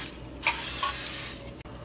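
Cooking oil is sprayed into a pan as a brief hiss lasting about a second, close and fairly loud, followed by a quiet kitchen background.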